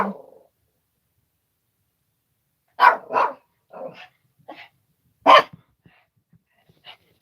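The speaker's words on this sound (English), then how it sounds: "That's my doggy." A pet dog barks excitedly indoors: several short, sharp barks in quick bursts, loud and close, with brief pauses between them.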